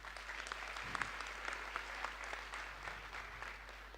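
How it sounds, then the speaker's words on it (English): Students in a medical college classroom clap for a classmate, a faint, fairly sparse patter of hand claps with a few sharper ones, recorded at low level and steady across the moment. "Clapping for her."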